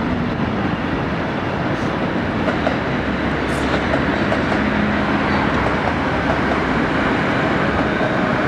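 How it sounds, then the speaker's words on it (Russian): A steady, loud rumble of a train rolling into a station in Tokyo, Japan, with continuous rail noise and faint squeals, no voices. "О, поезд. Прибытие поезда."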